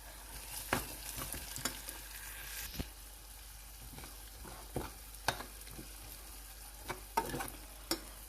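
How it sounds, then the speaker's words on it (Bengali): Quiet sizzling of vegetables frying in a pan with salt, turmeric and chili, with scattered scraping knocks from a spoon stirring the mix at irregular intervals. "সবটা দিয়ে হচ্ছে আমি একটু ভালো করে নেড়ে চেড়ে নেব।"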